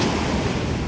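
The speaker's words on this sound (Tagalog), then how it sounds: "Pero malakas yung ano, alon." Strong sea waves roll onto a beach in a steady, loud wash of surf, with wind rushing across the microphone throughout and no voices.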